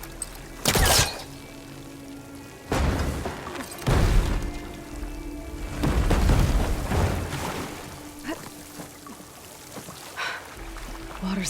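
Water gushing from a vent in Horizon Forbidden West, heard as repeated heavy rushing surges and splashes between quieter stretches of ambient rumble.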